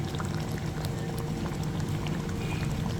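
Kofta curry bubbling and simmering in a deep pot while a spoon stirs it, a steady close wet bubbling texture throughout with faint scrapes.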